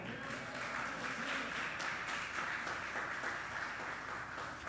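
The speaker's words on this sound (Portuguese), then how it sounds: "Você pode aplaudir o Senhor?" A church congregation applauds in a steady, dense wash of clapping that carries on evenly without pause.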